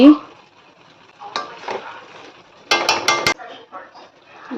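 Garam masala being stirred into hot ghee in a pan: scraping and clinking of a spoon against the metal over a soft sizzle, with a burst of quick, louder scrapes near the middle and brief quieter stirs around it.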